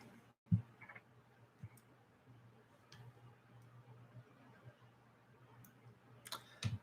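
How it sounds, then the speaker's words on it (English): Faint, sporadic clicks of typing on a computer keyboard, irregular and quiet, with a few sharper taps near the start and end over a steady low hum. "I'm assuming Mark is typing."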